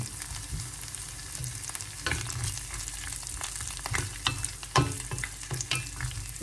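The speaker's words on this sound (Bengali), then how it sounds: "রসুন আর কাজু বাদামগুলো দিয়ে দিলাম এগুলো হালকা করে ভেজে নিই" Garlic and cashew nuts fry in a pan with a steady close sizzle, broken by sharp scraping taps of a spatula stirring them, alone without talk.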